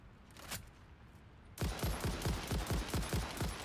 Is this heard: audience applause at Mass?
no